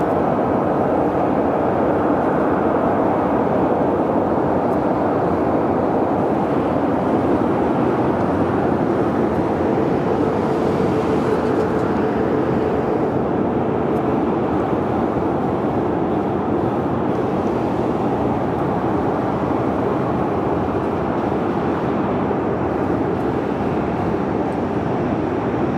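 An airliner taxis at LAX, its jet engines producing a loud, steady broadband roar that stays constant for the whole stretch with no voices.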